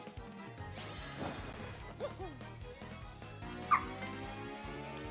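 Puppies barking and yipping in the Paper Mario: The Thousand-Year Door remake video game, several short yaps and whimpers over looping game music, with a brief crash sound near the end.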